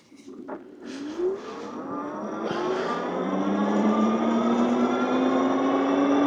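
A Varun X-Plorer Raptor e-bike with a 750-watt motor climbs a hill on throttle only, its electric whine rising steadily in pitch and growing louder, over faint outdoor rattles and wind.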